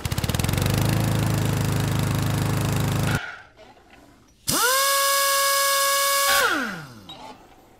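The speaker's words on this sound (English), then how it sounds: "So let's head over to the miter saw. So I'm just gonna square up these two ends." A miter saw squares the ends of a walnut board in two close, loud bursts, each a whining motor run with a cut that winds down after, separated by a short quiet gap.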